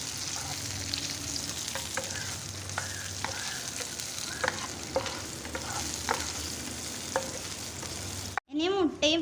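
Raisins sautéed in a pan, a continuous close sizzle with frequent short scrapes and taps of a stirring utensil, ending in a brief louder clatter, no speech.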